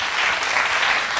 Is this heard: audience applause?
yes